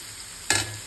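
Beans, carrots and potatoes frying in a pan: a quiet background hiss, then a sudden brief scrape and sizzle as the vegetables are stirred, fading back to a low crackle.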